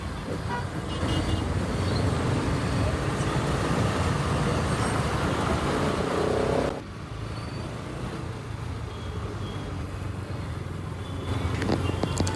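Dense roadway traffic at Mundhwa junction in Pune, a constant roar of cars, buses and trucks with repeated horn toots cutting through, loud and close, easing briefly midway before the din returns.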